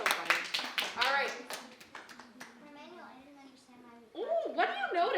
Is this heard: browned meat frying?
no